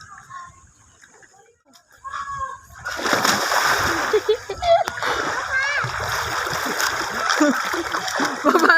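Young people jump into water outdoors on a summer outing, a quiet start giving way to heavy, sustained splashing and churning water mixed with excited voices, shouts and a rooster crowing faintly.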